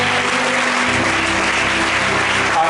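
A church congregation applauds and cheers in acclaim, with a dense wash of clapping and voices. A low sustained musical drone runs underneath, and the sound is loud and continuous.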